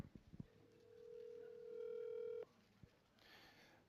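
A telephone handset gives a steady dial tone for about two seconds, then a few short dialing clicks and beeps follow, faint and close in a quiet room.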